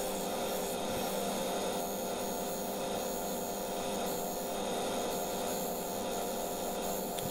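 A woodturning tool scrapes the rim of a spinning sycamore bowl on a lathe, giving a steady, even rasping rub that holds for several seconds over a continuous motor hum.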